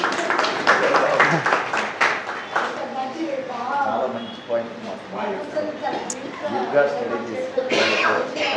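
An audience claps for a couple of seconds, a short burst of hands close by, before it fades and a voice carries on speaking over the dying claps.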